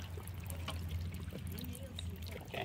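Water trickles and pours steadily from three tubes of a water-powered computer, a continuous splashing flow with faint background noise throughout.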